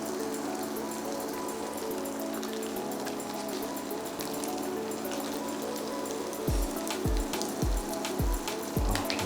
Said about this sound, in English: as soon as your oil is hot and ready, we can add our burgers.